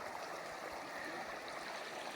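A river runs right beside a roadside camp spot, giving a steady, even rush of flowing water that holds constant throughout with no talk over it.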